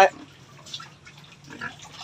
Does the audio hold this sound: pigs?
yes